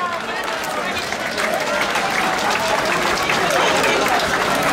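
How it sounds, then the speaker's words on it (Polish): Applause from the audience at a brass band festival for volunteer fire brigade orchestras. The dense, roaring crowd clapping swells slightly and holds steady, with voices blended into it. "Ogromne brawa publiczności."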